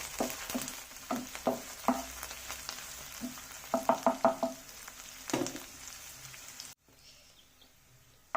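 Onions and curry leaves frying in hot oil for an egg masala, with a steady crackling sizzle and a few sharper pops and stirring clicks, fairly close, no talking, ending in a brief near-silence.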